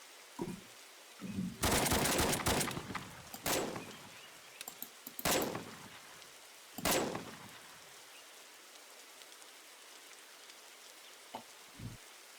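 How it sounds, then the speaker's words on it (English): Rapid automatic gunfire from a magazine dump in the shooter game BRM5, with several loud, dense bursts in the first seven seconds, then quieter single shots near the end. "I would unload all of those rounds onto my target"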